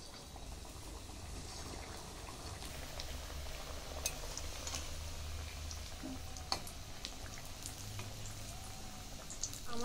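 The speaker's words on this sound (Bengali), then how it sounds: "এই দেখুন এরকম করে লাল লাল করে ভেজে নিয়েছি। তুলে নিচ্ছি। বাকিগুলোও ভেজে নিচ্ছি।" Rice pakora rolls fry in hot oil with a steady, faint sizzle and crackle, close by, with occasional light clinks of a utensil.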